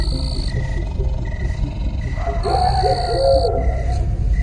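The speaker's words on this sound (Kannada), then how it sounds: "ಆಗೊಮ್ಮೆ ಈಗೊಮ್ಮೆ ಮೃಗಗಳ ಕೂಗು ಕೇಳಿಬರುತ್ತಿತ್ತು." Wild animal calls echo through a forest: a deep, wavering hoot like an owl rises over a steady background hum, while thin, high tones come and go.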